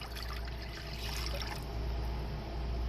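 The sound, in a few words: warm water poured into a mixing bowl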